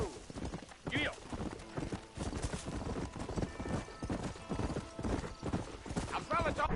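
Horse hooves galloping in Red Dead Redemption, a steady clip-clop rhythm running throughout with brief whinnies, mixed with a voice speaking over game music and effects.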